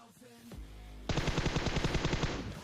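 Rapid automatic gunfire from a weapon in the video game PUBG, a loud sustained burst of evenly spaced shots after a brief lead-in of softer game sounds, with no talking.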